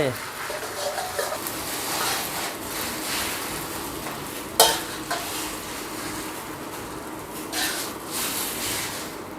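Pork stir-fries in a hot wok with a steady crackling sizzle and the scrape of a spatula, plus one sharp metallic clank midway.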